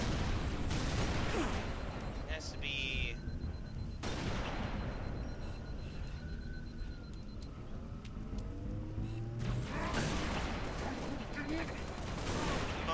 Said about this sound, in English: that concussive gunship cannon, always a pain